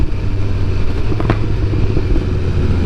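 A 2022 BMW S1000R Sport motorcycle rumbles steadily while being ridden, a loud continuous engine drone with wind noise and no speech.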